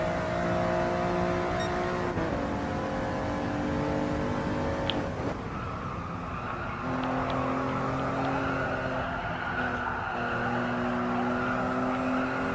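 A Toyota GR Yaris RZ First Edition engine wails at full throttle in Gran Turismo Sport, its harmonics climbing and dropping through gear changes on a racing lap, loud and continuous with a brief tire squeal.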